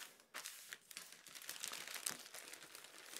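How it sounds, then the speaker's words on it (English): Sticky tape being torn open on a clear plastic bag wrapped around a Paul Smith navy cashmere scarf: quiet crinkling and crackly tearing in irregular bursts, close and faint, no talk. "let's now go ahead and open it up by tearing open the sticky tape"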